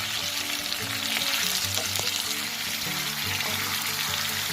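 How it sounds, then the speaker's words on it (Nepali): Turkey meat with chopped onion and turmeric sizzles loudly in an uncovered pan as it fries down until the liquid cooks off. The close, steady crackle carries occasional stirring scrapes and no voices. "अब यो टर्कीको मासु चाहिँ हामीले पानी नसुकुन्जेल मजाले फ्राई गर्नुपर्छ।"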